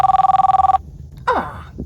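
A mobile phone rings with a rapid, pulsing electronic trill for under a second, close and fairly loud, and then a short swooshing sweep follows.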